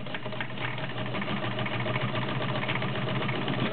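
A vintage Kenmore 1303 all-steel sewing machine runs steadily with a close, even mechanical whir and fast rhythmic clatter, alone for the whole stretch.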